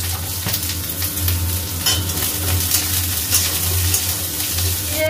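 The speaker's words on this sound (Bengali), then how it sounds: "আবার পেঁয়াজটাকে ভাজবো" Onions sizzle steadily in a hot pan, with a utensil scraping and stirring through the continuous frying hiss.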